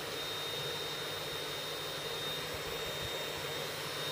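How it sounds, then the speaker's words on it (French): A 500 W air-cooled spindle motor runs steadily while its cooling fan pushes a constant broadband rush of air downward, with a faint low hum beneath and no talking. "Le bruit que vous entendez, c'est le flux d'air qui descend."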